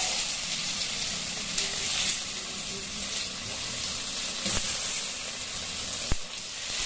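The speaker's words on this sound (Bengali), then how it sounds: "কড়াইটা অল্প গরম হয়ে এলেই সবার প্রথমে দিয়ে দেব টমেটোগুলো।" Tomatoes hit a hot kadai over a lit stove and settle into a faint, steady sizzle and hiss with a few soft clicks and knocks along the way.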